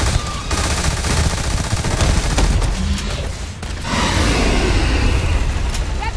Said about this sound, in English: I do like this shotgun, it just doesn't seem to be doing a lot of damage to it.